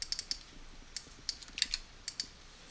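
Computer keyboard keys clatter in quick irregular bursts of light clicks, close and fairly quiet, with short pauses between runs as the keys are pressed and held.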